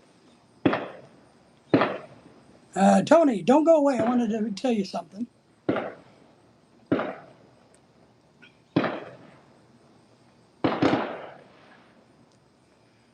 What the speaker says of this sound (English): Fireworks are going on.